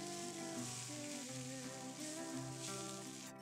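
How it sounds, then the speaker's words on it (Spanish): Black venere rice and paprika fry in a paella pan, a soft continuous sizzle and crackle as they are stirred, with sustained tonal music underneath. "añadimos el arroz y el pimentón y removemos para que se integren los sabores y se sofría un poco el arroz"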